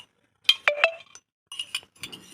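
Metal stand set into a wok holding a little water, with a few bright metallic clinks and scrapes as it is placed, then lighter rattles, close and alone with no voices.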